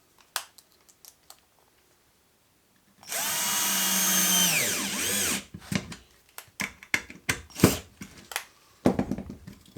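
A power drill runs in one sustained burst of about two and a half seconds, its pitch sagging as it drives screws into scrap wood, followed by scattered knocks and handling clatter from the workbench.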